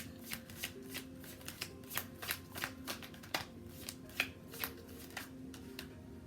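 A tarot card deck being shuffled by hand, with quick crisp flicks and riffles repeating in an uneven rhythm, close and clear against a quiet background with no talk.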